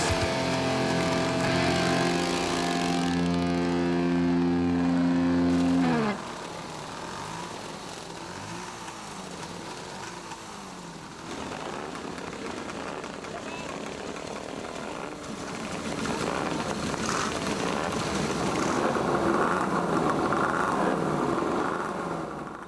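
Vintage Harley-Davidson and two-stroke Scott Flying Squirrel motorcycle engines, run loud and close. A steady droning hum gives way after a few seconds to a rougher, revving engine roar that swells toward the end.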